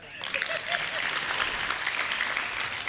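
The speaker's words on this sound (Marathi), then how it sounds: "ह्याच्यात टाळ्या वाजवा." Audience at a speech about Chhatrapati Sambhaji Maharaj bursting into dense, sustained clapping, loud and even throughout, with a few faint voices underneath.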